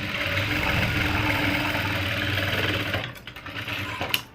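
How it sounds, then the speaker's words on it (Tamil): Sewing machine stitching fabric with steady, loud, close mechanical whirring that runs for about three seconds, then stops, followed by a few small clicks and handling noises. "வந்து கரெக்டாக ஒரு தையல் போடுறோம்."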